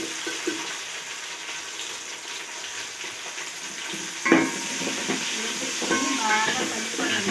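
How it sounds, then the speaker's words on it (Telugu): Tomatoes frying in a pan with already browned onions and ginger for egg biryani make a steady hissing sizzle with occasional stirring clatter, heard under someone talking. "ఉల్లిపాయలు అల్లం కూడా అయితే బాగా వేగిపోయాను అనమాట ఇప్పుడైతే నేను టమోటా వేసేసుకున్నాను ఇందులో"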